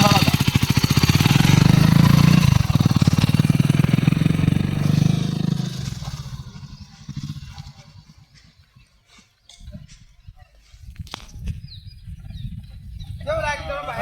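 A second-hand motorbike engine runs with a loud, rapid, throbbing rumble for the first few seconds. It then fades to a faint, uneven putter that comes and goes.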